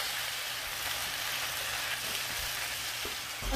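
Shrimp sizzle steadily in a hot pan for pepper shrimp, a loud, continuous frying hiss with faint crackle and the occasional clink of a utensil near the end, no voices.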